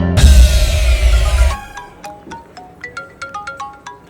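After a loud rushing burst of noise, a phone ringtone starts and plays a clear, rhythmic run of high chiming notes, close and alone without speech.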